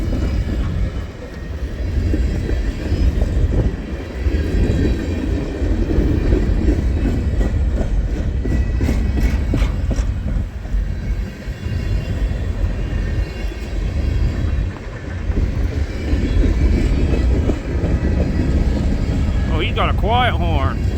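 KCS freight train boxcars roll past in a steady loud rumble with rail clatter, heard outdoors in an Illinois town, with a brief squeal near the end.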